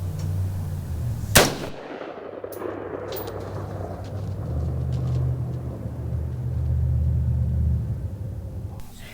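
A single sharp rifle shot from a .223 rings out at night, aimed at a possum, followed by a long rolling rumble and steady outdoor background noise.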